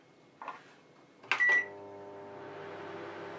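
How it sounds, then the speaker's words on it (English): A Morphy Richards Accents microwave oven: a soft click and a short beep, then a louder chime, after which the appliance settles into a steady low electrical hum, heard close with no speech. "Same usual noise as any other microwave, nothing different there."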